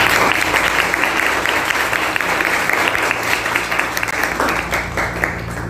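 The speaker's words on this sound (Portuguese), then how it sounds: "Salve, palmas, por favor." Steady, loud applause from a school audience fills the whole stretch, dense clapping that fades slightly toward the end.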